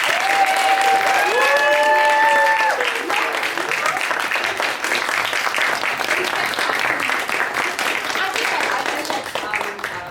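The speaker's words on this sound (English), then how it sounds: "can we please have one last massive round of applause for Sarah" An audience gives a presenter pair a long, steady round of applause with dense clapping throughout, loud and close. A brief tonal sound is heard near the start before the clapping fades slightly toward the end.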